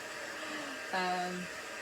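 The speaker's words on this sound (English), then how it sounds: "A little bit of noise from my heat tool." Craft heat tool for heat-setting embossing switching on, a steady blowing hum that starts abruptly, holds for about half a second and cuts off, faint and alone.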